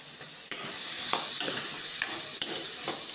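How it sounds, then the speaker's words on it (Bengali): Vegetables seasoned with salt and turmeric frying in a pan, a steady close sizzle broken by a few sharp scrapes and clinks as they are stirred, with no talking. "এবারে ভাজতে থাকবো।"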